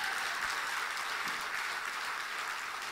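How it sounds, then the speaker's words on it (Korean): A congregation at a Sunday night church service applauds, a soft, distant, continuous wash of clapping with no distinct individual claps. "이럴 땐 박수가 나와야 되는 거예요"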